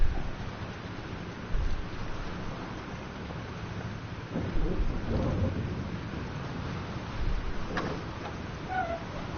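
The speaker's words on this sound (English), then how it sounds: "This storm's real." A thunderstorm in the video game Life Is Strange: heavy rain hisses steadily while thunder rolls and rumbles in several swells, with no voices over it.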